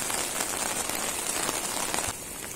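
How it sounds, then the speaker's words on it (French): Steady rain patters densely on a greenhouse roof and runs into a gutter, a close, even wash of drops with no talking. "Il pleut sur la serre"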